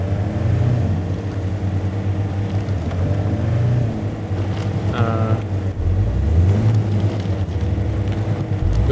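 A vehicle engine in the off-road driving game Expeditions: A MudRunner Game drones steadily and loudly throughout, rising and falling in pitch as it revs and strains, with a brief higher whine midway.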